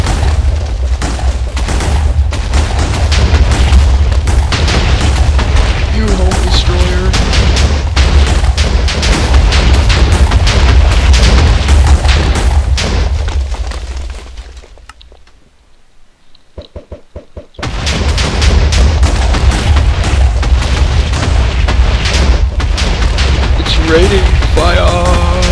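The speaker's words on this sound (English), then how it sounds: "It's fire falling from the sky!" Fire raining from the sky and exploding in Minecraft with the Thaumcraft mod, a loud barrage of thudding booms and knocking blasts. It drops to near silence in the middle, then the dense explosions resume just as strongly.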